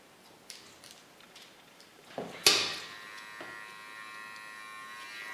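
A small electric hair clipper buzzes faintly near the head while cleaning the contour line of a haircut, a quiet steady hum with a sharper contact sound and a few light clicks.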